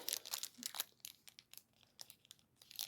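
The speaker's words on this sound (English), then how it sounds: "Some scissors to open these." Plastic packaging being opened with scissors up close, a faint series of irregular crinkles, snips and tearing crackles in quick bursts.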